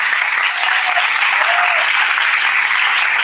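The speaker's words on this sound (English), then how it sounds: "Give a round of applause." A panel discussion audience on media and information literacy in Sarawak claps steadily, a dense, even wash of applause holding at full strength for the whole few seconds.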